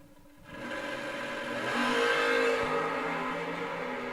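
A 1969 Camaro drag race car launches down the strip at a drag racing event. A steady engine roar swells and builds in loudness, then holds as the car pulls away, with no voices over it.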